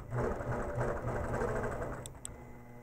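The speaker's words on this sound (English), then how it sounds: "I'll stitch my way back up the block again." An APQS longarm quilting machine stitches along a ruler across a quilt block, giving a steady, close mechanical hum with a faint rhythmic pulse that runs without pause, alone and without talk.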